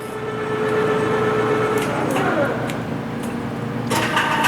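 A 1992 Leblond-Makino 15-inch Regal engine lathe with a Loris CXA tool post spins up to high RPM, its close, steady mechanical hum and whine swelling with a few clicks and rattles near the end.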